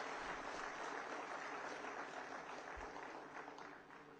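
Steady, dense applause from an audience in the Haryana legislative assembly hall, a continuous wash of many hands clapping that holds evenly and then fades slightly toward the end.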